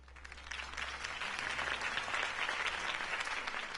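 A crowd claps and applauds steadily after a campaign speech, the sound swelling slightly and holding at a lively, even level.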